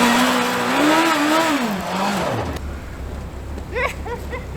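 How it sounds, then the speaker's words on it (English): A Smart car fitted with a Hayabusa motorcycle engine and a custom drift handbrake roars loudly on a test drive, its engine note rising and falling before cutting off, leaving a low rumble and brief squeals. "now the Smart-Hayabusa is ready for its first official test drive"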